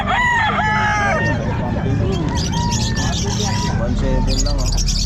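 Many chickens cluck and a rooster crows over a loud, busy hum of market chatter and background noise at a pet market in Calumpit, Philippines.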